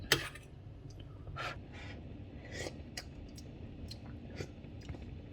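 Someone chewing home-cooked food seasoned with soy sauce, close and quiet, with soft crunches and moist bites recurring irregularly across several seconds and no talking.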